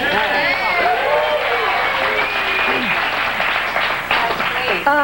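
A television studio audience applauds and cheers loudly, with whoops and excited voices rising over dense clapping that carries on throughout.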